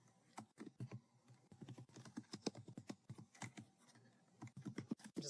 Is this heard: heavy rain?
no